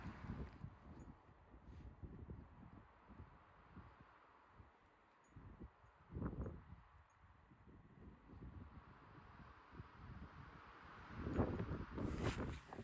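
Gusty wind buffeting the microphone at a campsite near Fremont Saddle in the Superstition Wilderness, rumbling in low waves and rising in stronger, dusty bursts, with faint rustling in the background.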